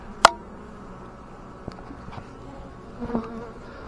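Honey bees swarm over a frame of capped brood lifted from an open hive at an apiary, giving a low, steady buzz with a few sharp knocks and bumps close by.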